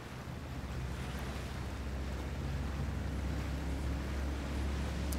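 Motorboat in the video game Sleeping Dogs running on water, a steady low engine drone blended with constant wash and spray noise, continuous and fairly loud with no voices.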